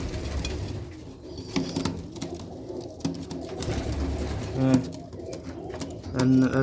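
A newly paired couple of Sialkoti rooftop pigeons coo softly in short, repeated low phrases, fairly faint against light background noise.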